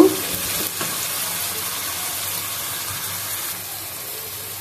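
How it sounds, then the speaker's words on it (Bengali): Spices frying in oil for hilsa pulao, a loud, even, close sizzle that starts with a burst as they hit the pan and then holds steady, with a faint stir or two. "আমি মশলাটা ভালো করে কষিয়ে নিব।"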